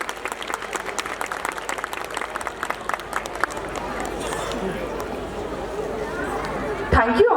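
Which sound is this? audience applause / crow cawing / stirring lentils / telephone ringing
audience applause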